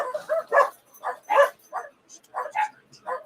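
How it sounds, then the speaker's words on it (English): Dogs bark in short, sharp bursts again and again at a moderate distance, with some yips mixed in, heard from indoors during a live stream. "The dogs are going crazy."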